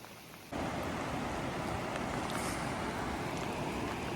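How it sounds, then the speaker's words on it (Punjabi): Steady, dense hiss of rain begins abruptly after a brief quieter moment, continuing evenly and fairly loud with no voices. "ਮੀਂਹ ਲੱਗਦਾ ਸਾਰਾ ਦਿਨ ਹੀ ਪੈਣਾ ਅੱਜ"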